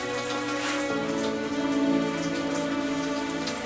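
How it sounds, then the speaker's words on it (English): Rain falls steadily on a surface, a dense close patter with a faint tonal hum underneath, no voices. "It's raining."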